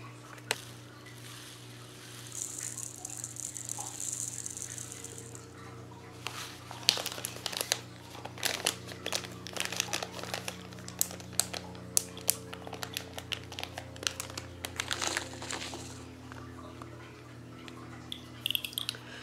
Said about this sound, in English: apparently, I have to cut open the bag again.